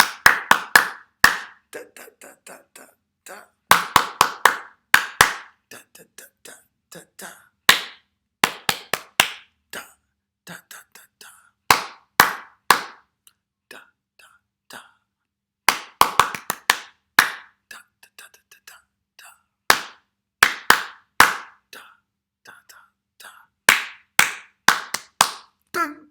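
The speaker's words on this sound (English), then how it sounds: "Don't clap that one back." Hands clap out short rhythmic patterns in a primary school music lesson, bursts of several crisp claps separated by pauses, repeated call-and-response style, loud and close with no talking over them.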